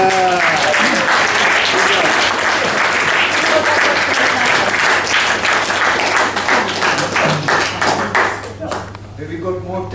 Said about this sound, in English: It's a big applause.